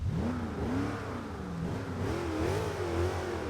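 A Jeep Grand Wagoneer engine in the video game Forza 6 idles and revs with a rising, wavering tone, steady and close, with no voices.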